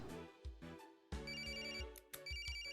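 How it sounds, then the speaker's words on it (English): Phone ringtone in the video game Ace Attorney: Spirit of Justice, a bright electronic tune repeating in short bursts over low game music, alone without talk. "Why don't you have a fun ringtone?"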